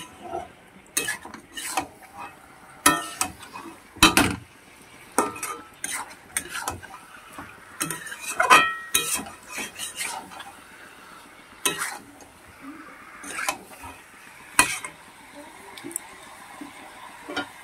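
A spoon stirs and scrapes masala spices into chicken in a metal pot for dum chicken, with irregular clattering knocks and scraping strokes close by, loud and quiet in turns.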